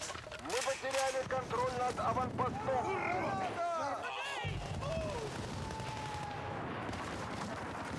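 Rapid gunfire and explosive bursts from the Halo video game pound away steadily in the background, mostly beneath someone talking throughout, with a brief lull midway.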